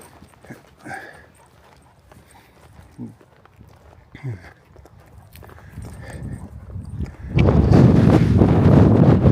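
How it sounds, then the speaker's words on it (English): A sudden loud gust of wind roars across the microphone near the end, following quieter outdoor sounds and a few faint rustles. "There's a gust of wind."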